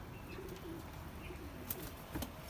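A male pigeon coos softly and low in a quiet space, with faint chirps and a couple of brief rustles.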